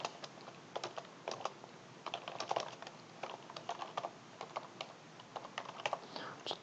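Rapid, uneven keystrokes on a computer keyboard while writing notes in the Obsidian app, close and fairly quiet, continuing steadily in short bursts with no voices.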